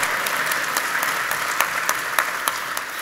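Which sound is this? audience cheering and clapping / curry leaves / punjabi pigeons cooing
audience cheering and clapping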